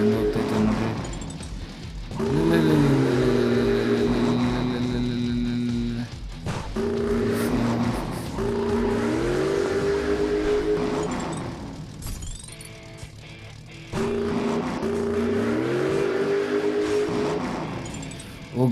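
Stunt car engines in a racing video game rise and fall in repeated revving sweeps with gear-shift drops and occasional clinks, looping several times over nearly twenty seconds in the background.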